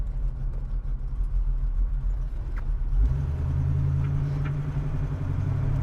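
A 1969 Pontiac Trans Am Ram Air cruising down the road, its steady, smooth-running engine drone and low road rumble filling the cabin, swelling slightly midway as the engine note rises and then holds even.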